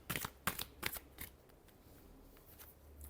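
Tarot cards are shuffled by hand in a quick burst of crisp riffling clicks, followed by quieter rustling; the sound is faint and close, with no voice.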